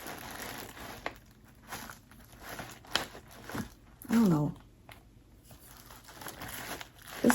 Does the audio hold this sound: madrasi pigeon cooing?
no